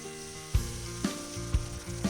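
Onion, ginger and garlic frying with pork in a pan, a soft steady sizzle punctuated by four evenly spaced low knocks of a spatula or spoon against the pan.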